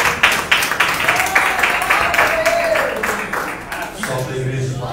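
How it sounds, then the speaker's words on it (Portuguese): A church congregation claps during evening worship, a steady, dense run of hand claps filling the space at moderate loudness while a voice carries on over it. "Palmas que adoram a Jesus nessa noite."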